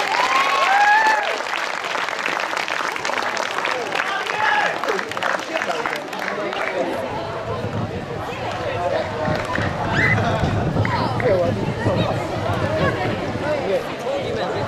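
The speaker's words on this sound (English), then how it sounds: "Let's give him a round of applause" Sustained, dense applause from a class of students fills the room for a departing teacher, Mr Rose, with voices talking and calling out over the clapping throughout.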